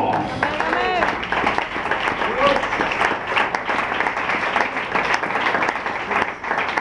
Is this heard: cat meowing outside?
no